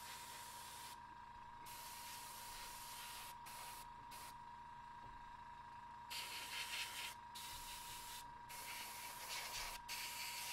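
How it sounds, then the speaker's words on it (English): Airbrush spraying paint onto a miniature Mechanicum Ordinatus Sagittar model, a steady close hiss with a constant compressor hum beneath, broken by short pauses and bursts as the trigger is released and pressed again. "something like this where the majority of the model is going to be the main color that I'm spraying"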